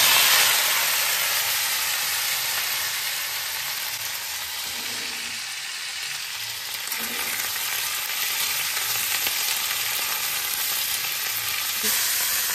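Fish sizzling in oil in a frying pan, a steady, close, broadband hiss that holds throughout with slight dips and crackles, no voices.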